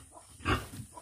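A single short, close grunt from a farm pig in a rural backyard, rising sharply near the middle, with faint background noise around it.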